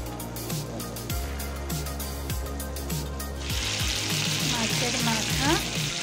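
Fish head and tail fry in hot oil. A bright sizzle swells in halfway through over a continuous tonal background with gliding pitches.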